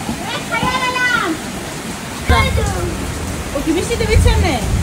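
Steady rain hisses in the background as people talk over it at close range. Voices dominate the foreground while the wash of rainfall continues underneath.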